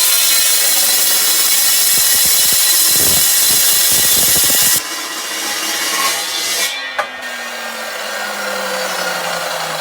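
A saw cuts through wood with loud, close, continuous rasping, choppy at first and then smoothing into a steadier grind, with no talking.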